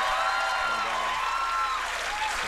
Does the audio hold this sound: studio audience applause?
yes